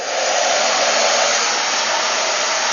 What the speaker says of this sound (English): So turning on the blow dryer